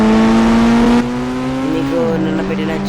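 A vehicle engine in an Indian 3D bike video game holds a loud, steady tonal drone that drops in pitch partway through, close and continuous, with a voice talking over it.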